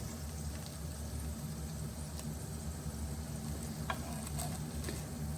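Plaice fillets frying in a pan give a steady, close sizzle throughout, with a few faint clicks and taps over the continuous hiss.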